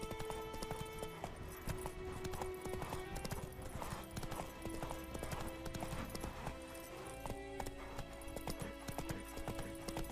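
Horse hooves clip-clop steadily across the whole stretch in The Witcher 3: Wild Hunt on PS5, with an occasional whinny, all set against a dense game music and ambience bed.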